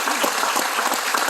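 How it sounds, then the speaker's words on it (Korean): A brief burst of audience applause at Song Young-gil's book launch event: dense, even clapping from a crowded room, loud and continuous for just over a second. "그 판사에게 박수 한번 쳐주세요."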